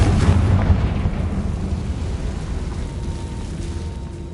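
A Bombarda explosion spell cast in Hogwarts Legacy: a loud, deep blast that rumbles broadly and decays slowly over several seconds, with no voices over it.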